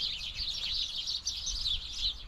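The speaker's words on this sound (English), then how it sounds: "Look at all those birds. You hear them?" Birds chirp and tweet steadily around the cages by a bunny barn outdoors, a continuous bright chatter of several small birds at moderate distance with no talking.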